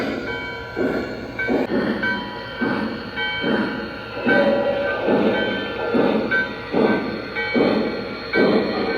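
Lionel Vision Line Commodore Vanderbilt O gauge model train, New York Central livery, running along its track with a steady rhythmic clatter that swells in regular pulses, moderately loud and close, with no voices.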